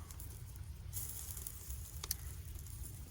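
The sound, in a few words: burger patties sizzling while cooking over a campfire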